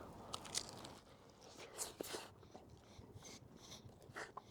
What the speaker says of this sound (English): So let's give it a little bite test.